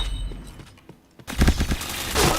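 Gunfire in the online shooter Point Blank, a sudden loud volley of rapid shots after a quieter moment, continuing in dense bursts.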